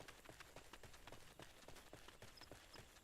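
Several horses galloping behind the player in Final Fantasy XIV, a quiet rapid clip-clop of hooves in steady overlapping rhythm, faint in the background.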